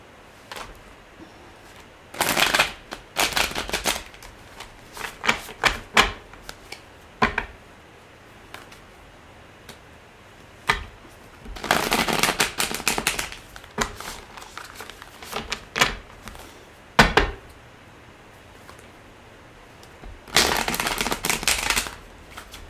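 A tarot deck is shuffled for a reading in repeated crisp riffling bursts, some long and some short, with quiet pauses and scattered card taps between them.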